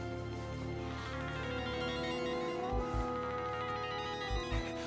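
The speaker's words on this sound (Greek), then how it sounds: "το κινητό μου είναι" A mobile phone rings with a sustained melodic ringtone that plays continuously and fairly loudly, with a couple of low thumps partway through.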